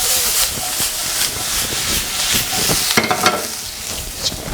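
Onions fry in a hot pan, giving a continuous loud sizzle and hiss, with scraping and stirring clatter from a utensil breaking through at intervals.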